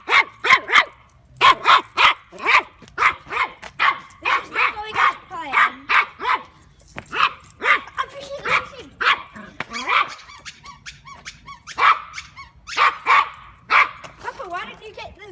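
A dog barks repeatedly in close, loud, rhythmic bursts, sharp woofs coming in quick runs with brief pauses between them, and no one speaking.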